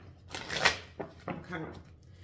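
Soft riffling and flicking of cards being shuffled, a couple of brief bursts close up, with quiet pauses between.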